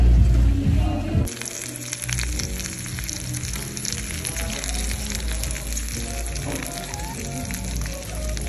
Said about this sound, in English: It's literally sizzling.